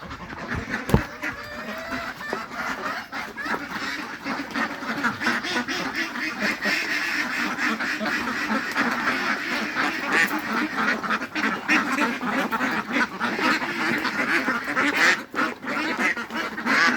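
A flock of ducks on a duck farm quacks continuously and loudly at close range, many overlapping calls forming a busy chorus with no speech.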